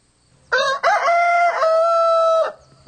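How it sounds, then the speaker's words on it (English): A rooster gives a single loud, close crow lasting about two seconds, a brief opening note followed by a long sustained call, alone with no talking. "Well, that crow is a challenge to all the other roosters in hearing distance."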